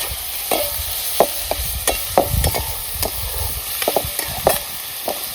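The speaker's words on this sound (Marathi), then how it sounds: "अशी तेलात चांगली फडफडीत तळायची." Dried fish (sukat) fries in hot oil, giving a continuous crackling sizzle with repeated sharp pops and spatters at an irregular rhythm, close and fairly loud, with no talking.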